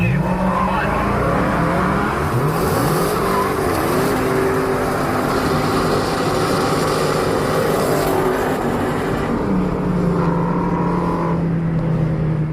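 A Dodge Hellcat does a burnout in a burnout drag race, its engine roaring and tires squealing continuously and loudly at close range, with pitch sweeps as it revs.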